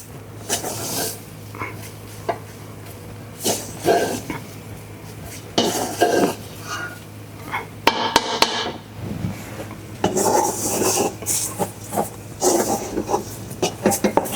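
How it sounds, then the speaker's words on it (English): A spoon stirring tomato paste into a chili mix scrapes and knocks around a pan in uneven strokes, with occasional louder clanks of utensils against metal, close by and without talk. "let's go ahead and stir this tomato paste into our mix we've got going on"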